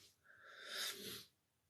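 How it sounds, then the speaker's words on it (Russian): A single sharp human sneeze, close and fairly loud, rising quickly and cutting off after about a second, with no talking around it. "Просто почему-то сейчас чихнул."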